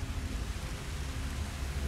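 Steady rushing water from a waterfall in Hogwarts Legacy, a dense, even hiss-like roar sounding alone and unbroken throughout.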